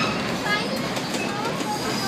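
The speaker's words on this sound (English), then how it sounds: "When we go over this bridge, our train is going to make a different sound." A passenger train on the Essex, Connecticut line rolls across a bridge over the Falls River, giving a continuous rumble and rattle with faint squeals near the listener, and people talk softly underneath.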